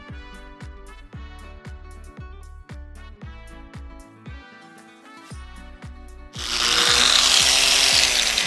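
A power tool fitted with a scrub pad buffs rust off a cast table saw top, giving a loud rhythmic rattling hammer of short repeated knocks. It then switches to a louder, steady, harsh grinding whir.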